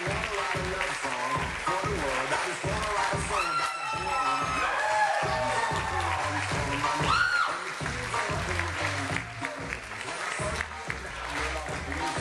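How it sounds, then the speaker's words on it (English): Wedding guests clap steadily and loudly for the groom's parents at a reception in Beverly, Massachusetts, with dense applause, scattered cheers and whoops, and crowd noise running throughout. "Please put your hands together for the parents of the groom"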